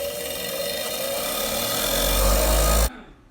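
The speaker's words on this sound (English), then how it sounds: "I'm going to use a bench grinder with a wire wheel." Bench grinder with a wire wheel scrubbing the output shaft of a Jeep Grand Cherokee WK rear wiper motor, a steady loud whirring hiss that runs for nearly three seconds and then cuts off abruptly.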